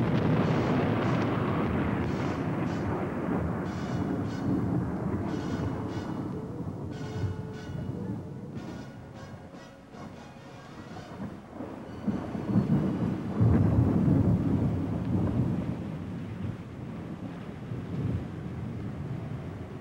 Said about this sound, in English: And then the excitement of a sudden thunderstorm, a sight that most will not soon forget.